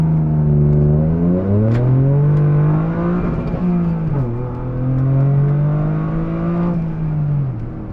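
A tuned Toyota GR Corolla with its turbocharged 3-cylinder and aftermarket exhaust accelerates hard on a dyno, a loud close engine note climbing steadily through the revs, dipping briefly at a shift, then rising again.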